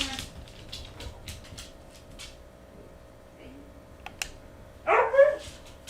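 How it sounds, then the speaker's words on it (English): A dog barks a few scattered times at a distance and then once louder near the end, under quiet conversation between people. "It's a dog."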